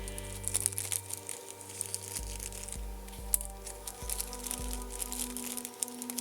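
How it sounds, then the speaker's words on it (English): A plastic parts bag for a eurorack bass drum module kit crinkles and rustles as it is cut open, close up and fairly quiet, with irregular crackles over a low steady hum and no talk. "I can't get the stupid bag open,"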